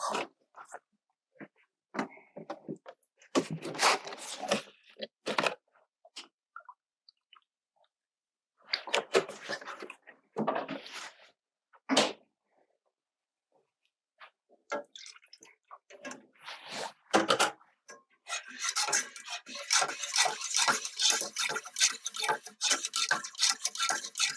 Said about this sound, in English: And we constantly whisk it so it doesn't have any lumps in it.